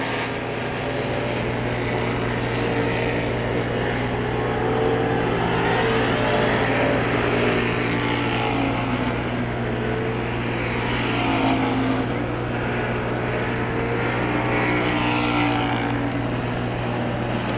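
Pure stock race cars roar around a dirt oval at Hagerstown Speedway during a qualifying heat, a loud continuous engine drone with rising and falling passes close by, under a busy crowd-and-announcer backdrop.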